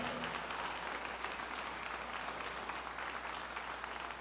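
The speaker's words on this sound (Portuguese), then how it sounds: "Vamos aplaudir mais?" Steady applause from a church congregation during a sermon, dense hand clapping sustained throughout at moderate distance with no voices over it.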